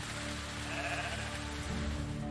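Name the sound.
sheep bleating in the video game Medieval Dynasty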